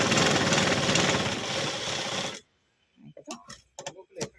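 A sewing machine runs in a steady rapid chatter as it stitches a folded blouse piece, stopping abruptly after about two seconds, followed by a short silence and a few bursts of a woman's speech.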